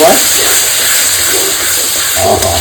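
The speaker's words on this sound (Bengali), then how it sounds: "দেবো পরিমাণ মতো হলুদ দেবো লাল লঙ্কা বাটা সমস্ত কিছু সুন্দর করে কষাবো" Gurjali fish curry with turmeric and red chili paste fries in a pan with a loud, constant hissing sizzle, as a voice speaks faintly underneath.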